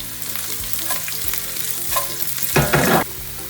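Green chillies fry in hot oil for a Kuttanadan duck curry, a steady close sizzle with brief stirring scrapes and a louder burst of crackle near the end, no voices.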